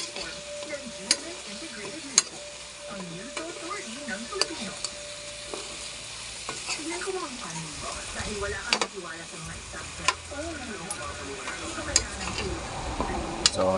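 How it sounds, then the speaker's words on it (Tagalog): Native chicken adobo is stirred in a sizzling pan, with a steady frying hiss and scattered scrapes and clicks of the spoon against metal. "So, haluin natin."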